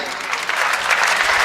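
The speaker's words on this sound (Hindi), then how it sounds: "बहुत बहुत तालियां मिली" Steady, loud audience applause at a Hindi kavi sammelan poetry event, a continuous wash of many hands clapping throughout the short clip.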